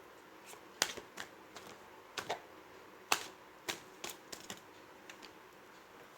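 Tarot cards shuffled and pulled from the deck, heard as sparse, crisp card snaps and taps at irregular intervals over a quiet background, with no talking.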